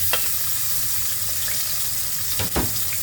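Onions sautéing in hot oil for macaroni give a steady, close sizzle, with a couple of brief clatters near the end.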